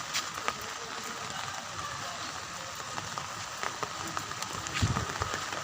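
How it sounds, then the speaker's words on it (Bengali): Light drizzle falls on an outdoor farm where cattle and big-horned buffalo are kept, a soft, steady patter with scattered drops heard nearby and no talking. "গুড়ি গুড়ি বৃষ্টি হইতেছে"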